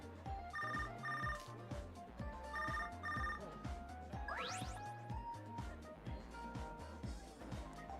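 Phone ringing in the video game Tokyo Mirage Sessions #FE, a bright repeating electronic ring in short bursts over game music and a rising swoosh.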